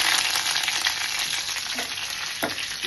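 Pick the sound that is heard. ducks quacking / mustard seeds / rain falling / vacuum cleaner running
mustard seeds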